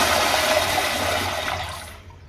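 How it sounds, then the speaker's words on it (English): A Kohler Kingston Ultra wall-hung flushometer toilet flushes in a strong rushing burst of water that stays loud and close, then tapers off quickly toward silence. "So let's get a look at a flush."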